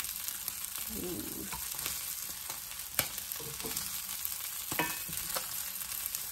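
Oysters frying in a pan for a Hangtown fry. Steady low sizzling and frying noise runs throughout, with a few soft clicks and scrapes of the pan.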